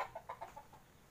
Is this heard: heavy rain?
no